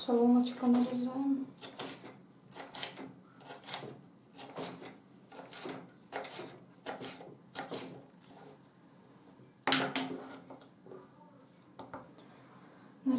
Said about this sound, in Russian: Вот так вот соломочком нарезаем.